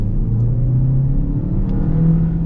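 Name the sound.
2026 Chevy Equinox AWD four-cylinder engine accelerating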